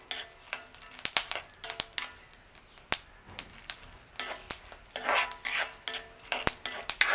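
Pumpkin seeds roasting in oil in a pan, with sharp irregular pops and clicks of seeds and utensil scrapes against the pan, close and fairly loud, no voices.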